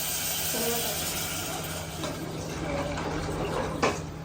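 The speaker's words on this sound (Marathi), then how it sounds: "आता पाणी टाकूया पाणी ऍड करूया याच्यामध्ये" A steady wash of water pours continuously into a pot of Maggi noodles, close by, with a brief clatter near the end.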